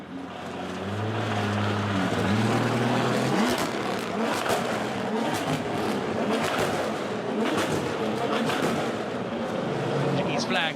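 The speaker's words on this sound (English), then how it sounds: "Big revs from Barreto." A rally-raid car's engine revs hard on a special stage in Portugal, rising and falling in loud, close bursts with gear-change pitch sweeps, mixed with wind and crowd noise.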